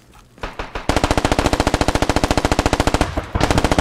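A machine gun in the video game Squad fires in loud, rapid sustained bursts, one short burst then a long continuous stream of evenly spaced shots and a further burst, close and without talk.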